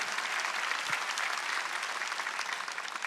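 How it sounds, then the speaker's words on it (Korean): Church congregation applauding for God at an Easter Sunday worship service, dense continuous clapping from many hands, steady and fairly loud throughout. "박수를 하나님께 받으라."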